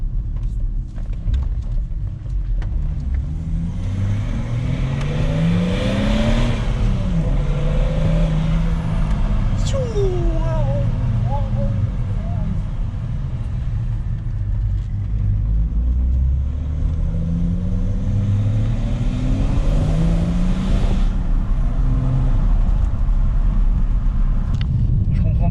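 A modified BMW 530d diesel engine rumbles and revs loudly with turbo whooshes, wastegate and dump valve hisses, steady and close throughout, with faint talk underneath.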